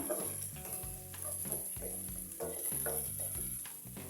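Ginger and garlic fry in oil in a pan, giving a steady close sizzle broken by repeated stirring scrapes, with no voices.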